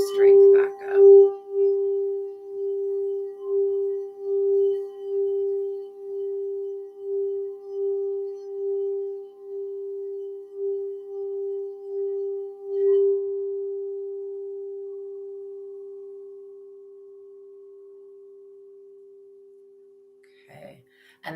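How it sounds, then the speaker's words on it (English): Crystal singing bowl sound bath from Healing Vibrations: a single sustained pure ringing tone with a slow, regular pulsing wobble, holding steady and then fading out near the end. "They have different crystal singing bowls, sound baths."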